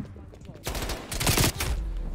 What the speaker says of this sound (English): he's already shooting at me